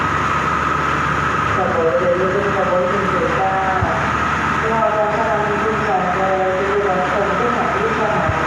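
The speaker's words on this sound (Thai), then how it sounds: "นี่เป็น รถ เดียว เที่ยว สุดท้ายของวันนะครับ ที่จอดทุ่งแสง ในทุกๆวันนะครับ" Express train 109 at Chum Saeng station in Thailand, a steady loud rumble of carriages with a repeating whine and squeal as the train begins to pull away, heard under someone talking.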